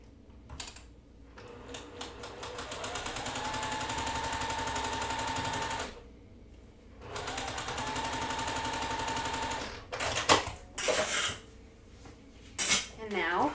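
A sewing machine stitches a quilt block in two sustained, rapid mechanical runs of several seconds each. A brief pause separates them, and handling clatter follows at the end.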